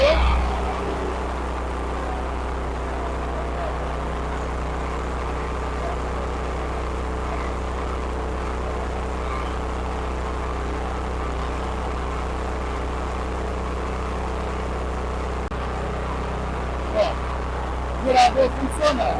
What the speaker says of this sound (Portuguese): Gerador funcionando.